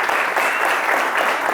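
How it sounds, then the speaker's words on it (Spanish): Brief burst of audience applause for an interpreter and preacher at a university church sermon, a close dense wash of clapping with no talk. "Me gustaría que les diéramos un fuerte aplauso a ambos."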